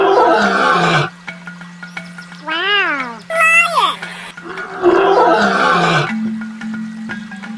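A pop-up sea creature toy plays a recorded lion roar, a loud electronic growl with rising and falling pitch, set between stretches of louder playful toy music and effects.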